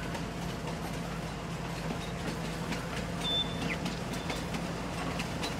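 A train runs in Farming Simulator 19, a steady rumbling rail drone with faint rhythmic clatter and a brief high squeal midway, continuous at moderate level.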